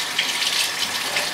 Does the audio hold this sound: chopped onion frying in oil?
no